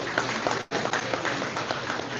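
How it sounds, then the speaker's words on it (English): An audience at a livestreamed astronomy talk night applauding, a steady wash of dense clapping with a brief dropout partway through. "So round of applause to all of you guys for that."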